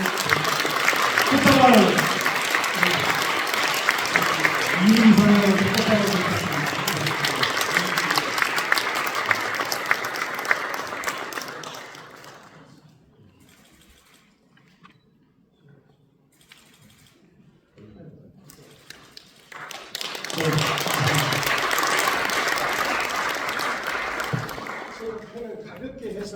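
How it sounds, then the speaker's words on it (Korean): Audience applause at a Korean Christian education association ceremony, loud and sustained with a speaker's voice over it, fading to near quiet midway before a second burst of clapping returns. "여러분 뜨거운 박수로"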